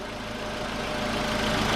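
A VW Polo sedan with a 1.6 CFNA engine idles close by after a start, a steady continuous drone as the warm-up revs settle lower.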